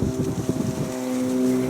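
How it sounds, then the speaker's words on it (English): Wind buffets the microphone outdoors in a home garden among watermelon and tomato plants, a steady rough rumble with gusty swells that runs the whole time. "I know it's windy out here"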